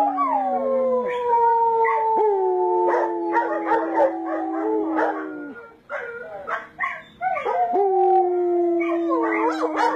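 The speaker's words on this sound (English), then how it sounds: "We're just howling for the hell of it" A dog howls loudly and close by in long, wavering, rising and falling notes, joined by a human voice howling along with it. The howling pauses briefly partway through and then resumes.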